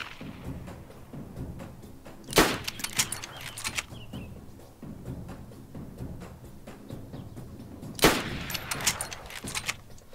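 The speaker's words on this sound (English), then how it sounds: "Is that you shooting?" Gunshots in DayZ Standalone, out in the north east: two sharp, loud reports about six seconds apart, each followed by a short rattling tail, over a low steady background.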